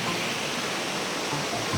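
River water flows beneath a bridge on Sangihe island, a steady, full rushing sound with no break from start to finish.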